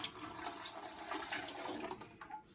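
Water gushes steadily into a home canner holding jars of salted carrots, a continuous rushing pour that stays loud and close with no voices over it.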